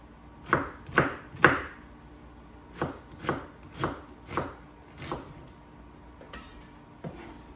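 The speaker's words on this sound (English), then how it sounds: "I am just gonna dice up an onion." A knife dices an onion on a cutting board in quick separate strokes: a fast trio of loud cuts, then a slower run of softer chops, with no voices.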